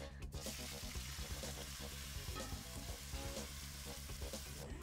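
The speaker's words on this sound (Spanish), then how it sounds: "Lo primero que va para nuestro wok, que ya tengo caliente con un poquito de aceite, es el pollo." Chicken sizzles and fries in a hot wok with a little oil, a loud steady crackle close by with occasional stirring clatter and no talking.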